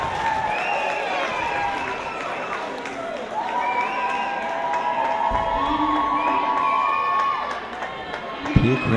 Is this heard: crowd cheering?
yes